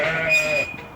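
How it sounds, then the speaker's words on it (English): Pedigree sheep in a lambing shed bleat as a flock: several overlapping wavering cries, fairly near and clear, with no talking over them. "let's open the floodgates, and here come the sheep"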